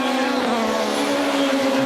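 World Touring Car Championship cars race at Brands Hatch in 2007, a loud, steady, buzzing engine roar from several cars close by, pitch wavering slightly as they accelerate.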